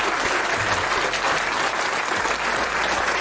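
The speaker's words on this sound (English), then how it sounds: "Let's give Brother Jew a round of applause." Dense, steady audience applause from a crowd at a sports talk show taping, filling the whole stretch at full volume with no voices on top.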